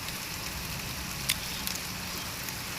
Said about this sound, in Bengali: জেলায় বৃষ্টি, প্রচুর বৃষ্টি